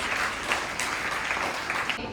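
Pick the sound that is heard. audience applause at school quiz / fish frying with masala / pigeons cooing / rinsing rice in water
audience applause at school quiz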